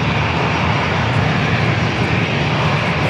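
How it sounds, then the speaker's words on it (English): A Delta Air Lines Airbus A321 jet at San Diego airport, heard as a steady, loud, broadband engine roar that holds constant throughout without talk. "It's Delta A321 heading to Atlanta"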